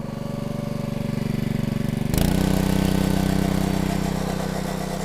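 A Split-Fire 2265 log splitter engine revs up from a pulsing idle to a loud, sustained high-RPM roar about two seconds in. The engine is close and runs alone without talk.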